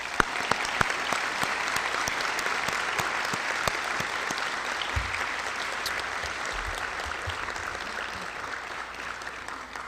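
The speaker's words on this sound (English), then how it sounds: "I want to make sure that they get a round of applause for that again" Sustained applause from a large audience fills a high school commencement ceremony, a dense, even wash of clapping that holds at steady volume throughout without a voice over it.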